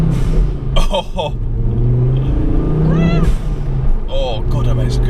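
A modified Ford Focus ST engine revs hard with a deep rumble, heard from inside the car while people talk over it, the pitch rising in short bursts.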